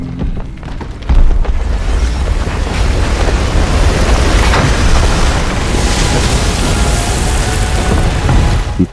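A huge explosion from a zombie film scene in Raccoon City erupts suddenly into a loud, sustained, deep roaring boom that rumbles on for several seconds, with no voices heard.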